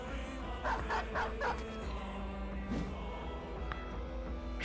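A dog in the Battle Brothers combat game barks and yips in a quick cluster of short, fairly faint calls. The calls sit over a low game background hum.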